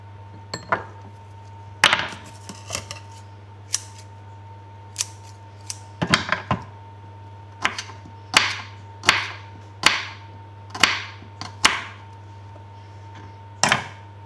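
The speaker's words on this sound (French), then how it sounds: "Donc voilà un radis. Je vais en couper plusieurs." A knife chops radishes into rounds on a cutting board, a series of crisp separate cuts that speed into a steady rhythm, close and clear over a constant low hum.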